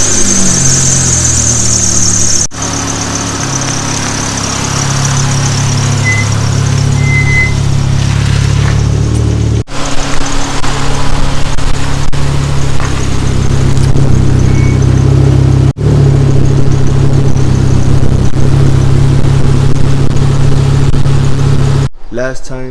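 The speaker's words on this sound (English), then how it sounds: "I'm driving away with success to the tire shop" A car driving on the way to a tire shop, its engine a steady loud drone with road noise throughout, broken by a few brief clicks or bumps.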